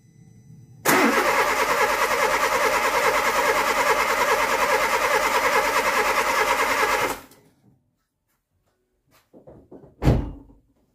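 A Volkswagen engine, just fitted with a new timing belt, cranks and catches, then runs at a steady, loud idle for several seconds before shutting off; a door thunks shut afterward.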